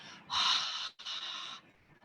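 Two breathy "ha" exhalations through an open mouth, like steaming up a mirror: a longer airy whisper of breath followed by a second shorter one, close and soft, with no voiced tone.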